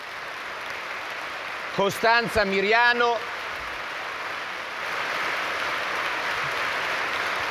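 A large indoor audience at a family conference applauding, a steady wash of clapping that swells slightly louder toward the end, following a brief spoken name.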